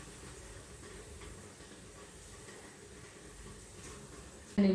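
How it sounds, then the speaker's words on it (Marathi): A pot set on a gas stove burner to cook brinjal gives a steady, fairly quiet hiss throughout, ending with a sudden louder knock near the close. "आणि मी आता गॅसवर गरम करायला ठेवणार आहे, शिजवायला ठेवणार आहे।"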